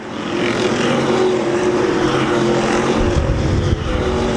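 World of Outlaws sprint car engines race at Sharon Speedway, revving high off turn four in a loud, continuous roar that holds steady throughout with no talk.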